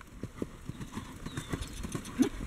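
Several horses canter together in a circle during drill practice, a steady, overlapping clip-clop of hooves at moderate distance with a faint voice now and then.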